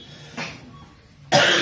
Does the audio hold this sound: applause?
no